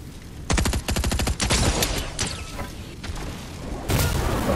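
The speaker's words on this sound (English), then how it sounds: "I just got shot by an Excalibur" Rapid automatic gunfire from an Excalibur weapon in a video game, loud and close, arriving as dense repeated bursts of shots with no talking.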